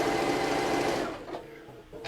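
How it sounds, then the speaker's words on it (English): A sewing machine stitching in the ditch on a cushion, a close fast mechanical whir that runs for about a second, then stops, leaving quieter handling sounds. "I'm just stitching in a ditch."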